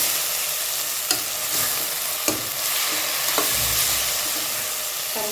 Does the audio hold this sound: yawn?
no